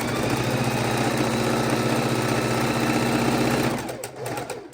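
A sewing machine stitches fabric scraps together for a scrappy quilt in a fast, steady, close whir with a rapid needle rhythm, then stops abruptly near the end, leaving quieter handling noise.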